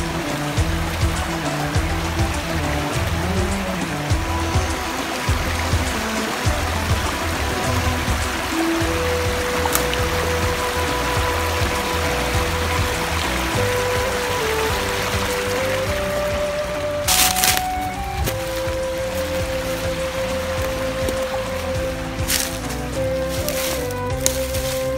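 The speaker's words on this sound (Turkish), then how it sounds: "Şelaleye yaklaşıyoruz" Waterfall and mountain stream on Murat Mountain rush in a steady, broadband roar throughout, with brief tonal whistles or calls rising above the water near the end.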